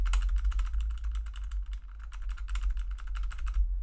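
Rapid typing on a clicky mechanical keyboard with blue switches, a dense, close run of sharp keystroke clicks with a brief lull midway before the clatter resumes, ending abruptly.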